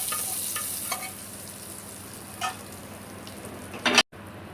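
Minced garlic and Kashmiri chili powder fry in oil for an egg tadka, giving a steady moderate sizzle with a few brief scrapes and a louder stirring burst near the end before it cuts off.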